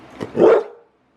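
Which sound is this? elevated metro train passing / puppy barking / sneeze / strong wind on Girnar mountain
puppy barking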